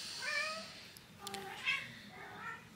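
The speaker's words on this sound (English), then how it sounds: "There is a non-stop meowing going on." A house cat meows repeatedly with plaintive, tonal calls, several in quick succession at close range, in a quiet indoor room with faint background sounds and no talking.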